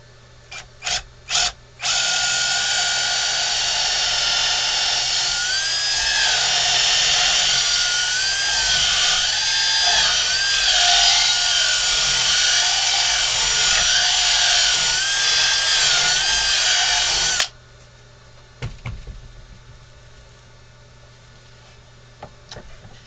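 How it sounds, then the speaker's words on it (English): An electric drill whines steadily for about fifteen seconds, boring down through the wooden neck of a ventriloquist dummy, its pitch wavering as it bores, with a few knocks before and after. "We're going to drill down through the neck up to the top for our string."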